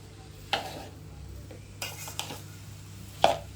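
A spoon scrapes and knocks in a pot while puranpoli filling is stirred and mixed, giving a few scattered clanks and scrapes over a low background hum.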